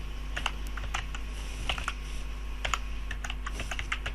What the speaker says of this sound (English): And let us type the same URL over here